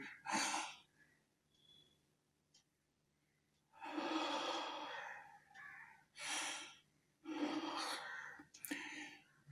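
A dying character in a Tamil stage drama heaves short, breathy gasps and snorts, several close bursts separated by quiet pauses, with the loudest breaths clustered toward the end.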